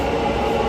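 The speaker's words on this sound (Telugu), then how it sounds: "ప్లాట్ఫామ్ సో ట్రైన్ వచ్చినట్టున్నది కావచ్చు." At a station platform en route to Bangalore, a train arrives with a loud, steady, low rumble that fills the whole short moment, with no voices.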